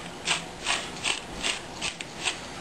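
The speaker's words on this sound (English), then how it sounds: "we're going to use Joe's super cool mid-century grinders and salt that up and pepper it up" Mid-century salt and pepper grinders being twisted over food, giving six evenly spaced bursts of dry ratcheting crunch, each about a third of a second long, close and clear with no talking.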